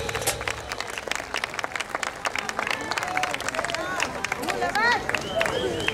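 An outdoor crowd at Plaza de Armas in Tacna claps for a band after a waltz performance: sustained dense applause with scattered voices and a whistle or cheer rising near the end.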